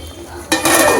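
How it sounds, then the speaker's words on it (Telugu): A lid set down on a pot of chicken curd curry, a quiet background hum broken by a sharp metallic clack halfway through, followed by a brighter clatter as it settles. "కొద్దిసేపు మూత పెట్టి"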